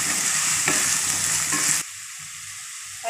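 Turmeric and red chili powder being stirred into kair sangri pickle in a pan, a continuous close sizzle and scraping that cuts off abruptly partway, leaving near quiet, no talk.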